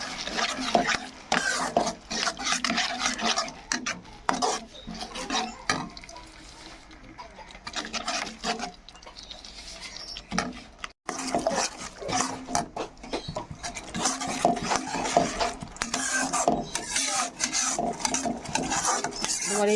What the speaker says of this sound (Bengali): আমার এই খুন্তিটা দিয়ে তাও একটু নাড়া যায়, কিন্তু কাঠের খুন্তিটা দিয়ে আমি নাড়তে পারছিলাম না বলে আমি স্টিলের খুন্তিটা নিয়েছি